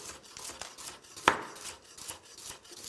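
Quiet kitchen cutting of carrots on a board, sliced at an angle with a knife, a series of soft rhythmic chops with one sharper click in the middle.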